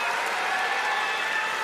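A dense, steady roar from an arena crowd at a women's 63 kg judo world championship final, cheering continuously and loudly throughout.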